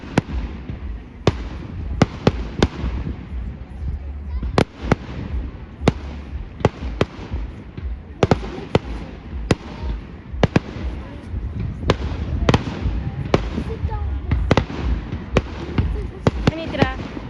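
Fireworks spectacular at St Albans in 2022, with loud sharp bangs and crackling bursts going off repeatedly and irregularly throughout over a crowd murmur, some close and some more distant.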